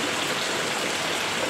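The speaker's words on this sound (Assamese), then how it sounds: "পূৰা বৰষুণ" Heavy rain pouring steadily in a flood-prone rural area, a dense, even hiss of water with no breaks, close and constant.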